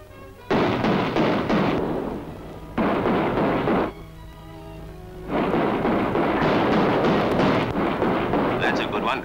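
Post-war motor torpedo gunboat guns opening fire on a target, long bursts of heavy roaring gunfire broken by brief pauses, loud and continuous, with someone narrating in places.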